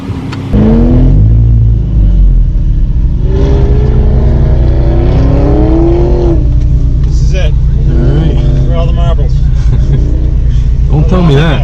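A Honda S2000 runs an autocross lap, its engine droning loud and close with rising and falling revs through the course, while a person talks over it almost throughout.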